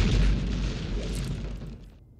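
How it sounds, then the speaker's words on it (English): Explosion sound effects during an Alien RPG tabletop session: a loud, deep boom bursts out at once, then a broad rumbling roar slowly fades over about two seconds. "let me just bring on some explosion-y sounds"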